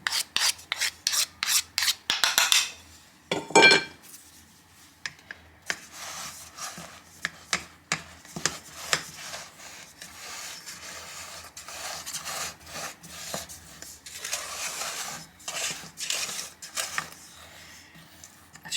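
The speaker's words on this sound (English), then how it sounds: "Then just pat it all down. I might use a different spoon for patting it down." A tablespoon pats and presses a crushed-biscuit cheesecake base into a tin, giving a run of quick, close dry taps and crunchy scrapes, denser at first, then scattered softer pressing sounds.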